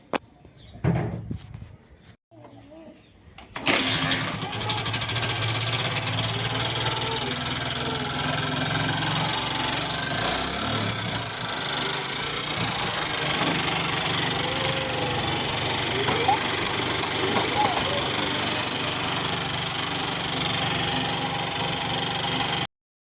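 A motorcycle engine starts after a few brief knocks and clunks, then idles loud and close in a steady, unbroken rumble that lasts about twenty seconds.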